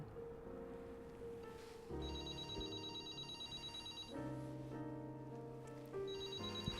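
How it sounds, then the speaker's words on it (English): A telephone ringing with a tonal electronic ringtone, repeating bursts of layered beeping tones that restart every couple of seconds, fairly quiet with no talk over it. "The phone's ringing."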